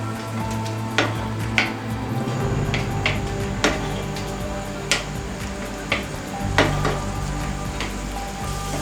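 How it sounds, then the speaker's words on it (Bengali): Corn kernels and three cloves of grated garlic stirred in unsalted butter over a low flame, a soft steady sizzle with a spoon knocking against the pan at irregular intervals, no voices. "এবার লো ফ্লেমে এই কর্ন আর গার্লিকটা বাটারে কিছুক্ষণ নাড়াচাড়া করতে হবে"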